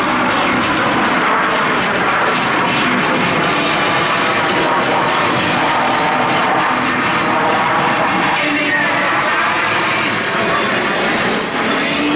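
Blue Angels jets fly the Diamond Dirty Roll at an air show at Naval Air Station Joint Reserve Base New Orleans in Belle Chasse, a loud sustained jet engine roar with a faint crowd beneath.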